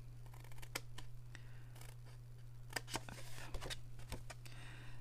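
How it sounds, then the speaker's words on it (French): Scissors snip through paper on each side of a fold while a paper hexagonal pouch is made from a craft kit. Faint, sparse cuts and small clicks come up close over a steady low hum. "Donc je mets un coup de ciseau de chaque côté du pli."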